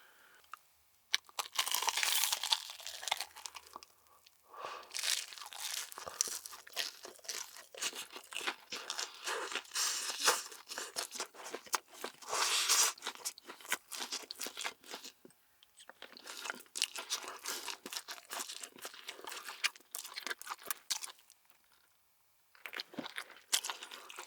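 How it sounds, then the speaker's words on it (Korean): Crunchy bites and chewing of a giant hot dog stuffed with cheese, loud and close, in repeated bursts of crackling bites and mastication with short pauses between, no talk. "다음은 대왕 핫도그 먹어볼게요."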